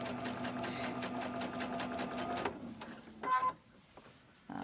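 A sewing machine runs steadily at close range, stitching a quarter-inch seam on a chain stitch quilt block, then stops, leaving a few soft handling clicks and rustles.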